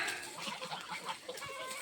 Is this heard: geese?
yes